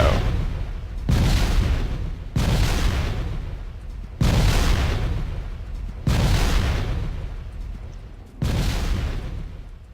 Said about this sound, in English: these are a rocket upgrade, the explosive rockets, so they have an area of effect, but less damage.